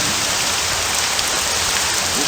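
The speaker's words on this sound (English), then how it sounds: "of course it's raining his ass off" Heavy rain pours without a break in the video game Morrowind, a dense, even hiss at steady loudness with no talking and no thunder.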